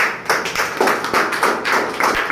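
Applause from an audience at a business plan presentation, a short burst of scattered claps that rises and falls over a couple of seconds, with no talking.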